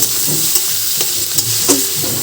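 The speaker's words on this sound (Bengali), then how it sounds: "পেঁয়াজ ভাজা চলছে" Onions fry in a pan with a steady sizzle and occasional stirring scrapes and clinks, fairly loud and continuous, no voices.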